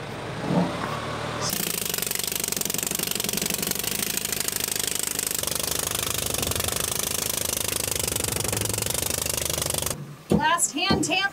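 Hand tamping of a rammed earth wall during construction: a rapid, steady mechanical pounding that runs for several seconds, close and loud, then cuts off abruptly before a short burst of talk.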